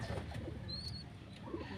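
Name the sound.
pigeons cooing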